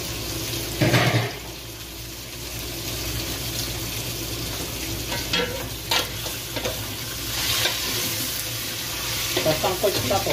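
Chicken sautés in a pan for Filipino tinola, giving a steady, close sizzle with occasional stirring scrapes and clatters of utensils throughout.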